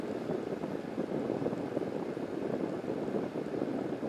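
Wind buffeting the built-in microphone of a Panasonic GH2 camera with no external protection and its internal wind filter set to high: a steady, dense rumbling roar with no pauses, close and fairly loud.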